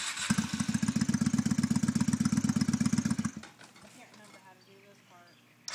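A motorcycle starter cranks in a fast, even chugging rhythm for about three seconds, then cuts off without the engine catching, followed by quiet people talking nearby.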